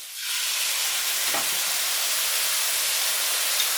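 Sauce poured into a hot pan of black pepper steak sets off a loud, steady sizzle that rises quickly at the start and hisses evenly without letting up.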